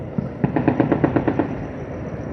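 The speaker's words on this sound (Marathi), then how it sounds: "जम्मूच्या आकाशात मोठ्या प्रमाणात स्फोटांचे आवाज येत आहेत" Rapid burst of gunfire over Jammu, roughly ten evenly spaced automatic shots ringing out at a distance, with no voices.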